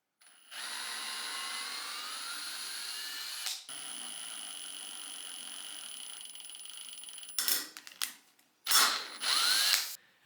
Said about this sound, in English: I drilled through the hole into the pole for perfect alignment